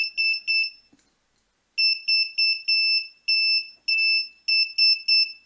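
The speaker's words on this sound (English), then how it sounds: "That's the SOS sign." A shrill Arduino passive electronic buzzer taps out SOS in Morse code, quick short beeps followed by longer held tones, repeating in a steady pattern with brief gaps.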